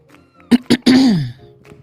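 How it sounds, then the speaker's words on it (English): A person clears their throat with two short rough bursts followed by a longer gravelly rasp, close and alone. "Clearing my throat."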